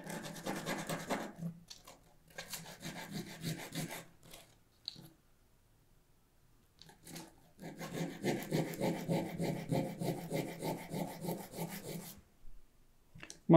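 Sandpaper scraping the tip of a handmade wooden oud pick (risha), heard as close, steady back-and-forth rasping strokes in several long runs separated by short silent pauses.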